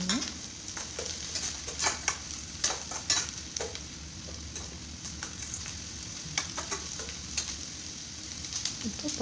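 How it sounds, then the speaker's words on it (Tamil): Onions sautéing in a pan for tomato pachadi, a steady close sizzle with repeated spatula scrapes and stirring clicks throughout, no talking. "வெங்காயம் நல்லா வதங்கணும்."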